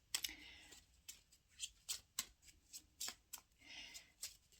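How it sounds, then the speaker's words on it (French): A deck of tarot cards is shuffled by hand in a series of short, crisp riffles and slaps, roughly a dozen bursts at an uneven rhythm, close and fairly quiet, with no voice. "je vais commencer par mélanger le jeu"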